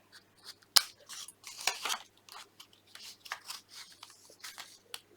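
Scissors tip snipping around the edges of a paper window cutout, a run of crisp, irregular cuts and rustles close up with no talking.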